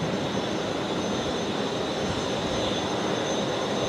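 Aircraft taxiing at Brisbane Airport at night, a steady loud jet engine roar with a constant whine, continuous and unbroken across the whole stretch with no voices.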